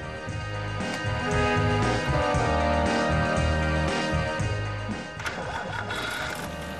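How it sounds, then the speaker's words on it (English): A vintage 1934 Mercedes 130 with a 1.3-liter motor runs steadily, a quiet, even mechanical whir with rhythmic pulsing that stays constant and fairly close, with no talking. "The motor is still astonishingly quiet."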